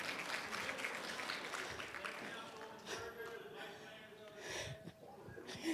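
Scattered applause from a lunch keynote audience at a race relations and inclusion forum, a steady wash of clapping hands at moderate distance with some voices and murmur mixed in.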